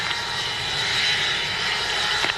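Avro Vulcan bomber jet engines roar loudly and steadily during the takeoff run at RAF Waddington, a dense, continuous blast of engine noise with no voices over it.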